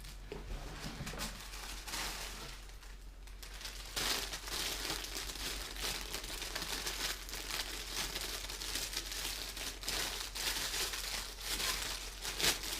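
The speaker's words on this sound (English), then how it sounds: "This is how you see that man cannot open plastic bags" A plastic bag crinkles and rustles continuously up close as a man struggles to open it, a dense stream of crackly rustling with brief pauses and no talk.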